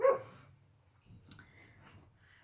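An indoor dog wanting to be let in gives a single short, fairly faint bark, followed by quiet scratching and shuffling sounds in an otherwise calm room.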